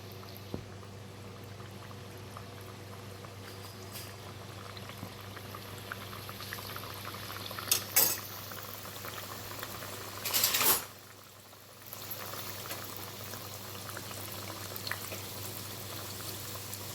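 Unnakkaya, plantain dumplings, fry on low heat in hot oil in an iron pan, giving a soft, steady bubbling and sizzle with a couple of brief louder clatters partway through.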